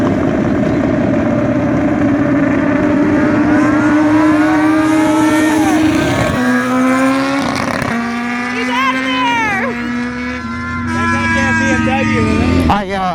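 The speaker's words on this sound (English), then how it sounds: "It hit rev limiter" A BMW S1000RR sportbike engine screams at a drag strip during a launch-control run in break-in mode, revs sweeping rapidly upward through gear changes and stuttering against the rev limiter, loud and close.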